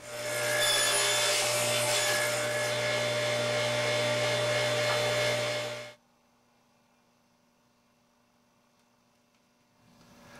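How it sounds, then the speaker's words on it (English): Table saw cutting tenon-style shoulder cuts in wood on a crosscut sled: a loud, steady whine of the blade through the cut for about six seconds, then a sudden drop to quiet hum as it spins down. "The first two cuts we'll make are on the table saw, and they're a shoulder cut similar to making a tenon on the table saw"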